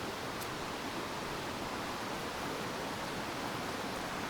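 A river flows beside church ruins reclaimed by nature, giving a constant broadband rushing wash of water that stays steady and fairly close with no voices.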